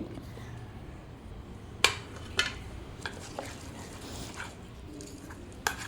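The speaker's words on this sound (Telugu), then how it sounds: "ఇలాగ మొత్తం పిండి అంతా కలిసేటట్టు బాగా కలుపుకోవాలి" Batter for gunta punugulu, with grated carrot added, being mixed in a bowl, giving soft wet stirring with a few sharp clinks of a utensil against the bowl, close by and fairly quiet, with no talking.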